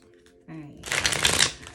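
A deck of tarot cards is given a quick riffle shuffle close up, a short papery whirr that builds and fades over a second, with a brief voice just before it.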